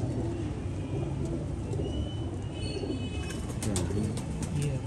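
Pigeons kept at a home coop coo in a low, continuous murmur at close range, with faint higher chirps now and then over a steady background and no voices.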